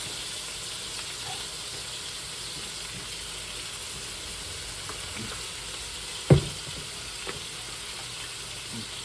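Garlic fries in a pan alongside browned beef and onions on a stovetop, a steady hissing sizzle with one sharp clank partway through and a couple of lighter taps.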